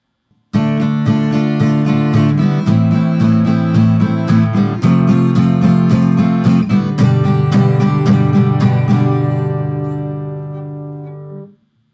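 An acoustic guitar strums the repeating chord progression of The Weeknd's "Save Your Tears" in a steady rhythm, played alone and close, ending with a ringing final chord that fades.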